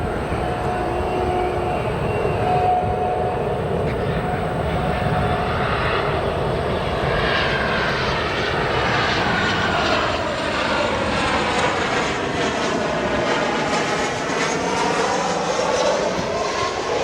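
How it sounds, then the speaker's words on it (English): A Boeing 737 jet arriving on runway 10 center at Chicago O'Hare airport, its engine roar loud and steady throughout, with a slowly shifting whine as it passes nearby; no talking. "this 737, as it arrives here on runway 10 center"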